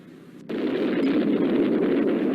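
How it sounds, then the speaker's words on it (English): The atomic bomb exploding over Hiroshima in 1945 breaks in as a sudden loud blast that swells at once into a dense, sustained rumbling roar. "the United States Air Force detonated an atomic bomb over Hiroshima"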